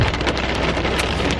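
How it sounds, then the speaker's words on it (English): Heavy rain pours steadily during a thunderstorm on a beach at Brean Down, a loud, dense hiss of drops drumming on a surface with no voices. "hopefully the rain stops tonight so we can walk down to Nick's bar without getting drenched"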